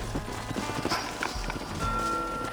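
Horses' hooves clop and shuffle in the Red Dead Redemption video game as riders dismount, a steady run of close, dull hoofbeats over a low rumble.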